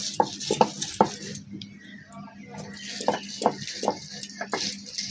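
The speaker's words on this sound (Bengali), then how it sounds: "রসুন বাটা হয়ে গেছে, এবার পেঁয়াজ বাটবো।" Onion ground into paste by hand on a stone grinding slab for an egg curry: rhythmic close scraping and knocking strokes, repeating steadily under a low background.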